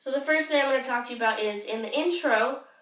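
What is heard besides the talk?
No everyday noise stands out behind the speech.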